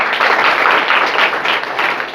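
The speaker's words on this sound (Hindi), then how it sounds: "ताली बजाइए भाई एक बार टीम लीडर के लिए" Students clap together for their team leader at a school workshop, a loud, dense burst of group applause sustained for about two seconds with no talking over it.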